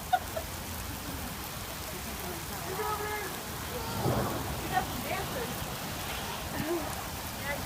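Steady rain falls and patters on surfaces throughout, with occasional louder gusts of downpour, while voices talk over it.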